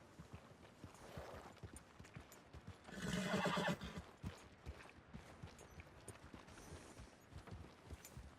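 A horse neighs and whinnies at a stable in the Red Dead Redemption 2 game world, a loud burst in the middle with hooves clip-clopping and shuffling softly before and after it.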